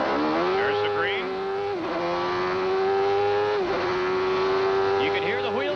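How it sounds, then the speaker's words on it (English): Nigel Mansell's CART race car and the surrounding field roar off a rolling start, engines wavering and dipping through gear changes with brief squealing wheel spin, while a commentator talks over the loud, close engine noise. "You can hear the wheel spin as Mansell jumped away"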